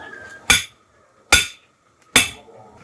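Three sharp, evenly spaced hammer blows drive a stake into the ground to mount a stand for stingless bee hives in Thailand, each strike loud and close with a short ringing tail and quiet gaps between.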